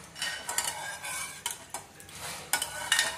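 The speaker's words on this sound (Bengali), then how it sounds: "এবার ডালটাকে ম্যাশ করে নিচ্ছি ভালো করে। নেওয়ার পর অল্প জল দিয়ে দিচ্ছি।" Boiled dal mashed and stirred with a little added water for dal dhokli, soft wet squelching and scraping with intermittent clinks of a utensil against the pot, close and fairly quiet, no speech.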